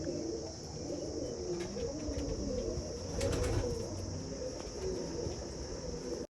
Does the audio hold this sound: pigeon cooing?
yes